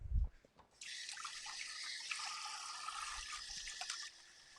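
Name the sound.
washing hands under running tap water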